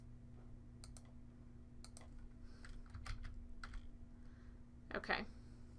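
Keys clatter on a computer keyboard during lab data entry of a salmonella result, scattered quiet clicks and short bursts of typing over a low electrical hum, ending in a quick flurry.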